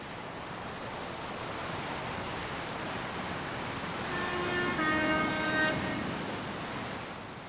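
A train runs along the Devon coast railway between red cliffs and the sea, a faint, distant wash of rolling noise that swells slightly midway, with thin tonal traces riding over it.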